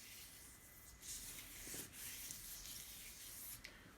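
A stick rubbing across a piece of cut wood outdoors in the woods, making a soft, quiet scraping hiss that swells and fades in a few slow strokes.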